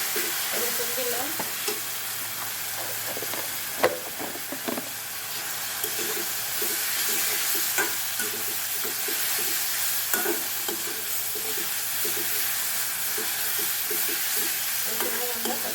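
Garlic frying in hot oil in a pan, a continuous broad sizzle with irregular scraping stirs from a spatula throughout, close and steady, with no talk.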